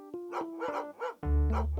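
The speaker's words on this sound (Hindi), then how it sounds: "ये कुत्तों के भौंकने की आवाज आ रही है" Dogs bark outside in a quick run of several loud, close barks and yips, one after another, with no talking.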